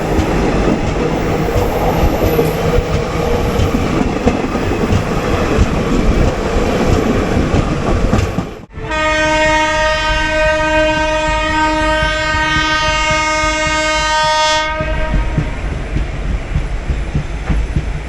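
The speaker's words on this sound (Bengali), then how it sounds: "আর ট্রেন চলেছে দেখো গতিতে" The Netaji Express clatters along at speed in a loud continuous roar of wheels on rails, then after a brief dip a long, steady horn blast sounds for about six seconds over the running noise.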